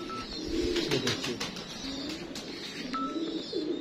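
Die breed pigeon cooing close by in repeated low, throaty rolling coos, with faint chirps and light handling noise around it.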